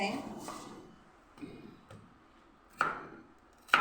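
A knife chops an onion on a board while corn pakoda is being made, landing a handful of sharp, separate chops at irregular intervals, with quiet gaps between strikes.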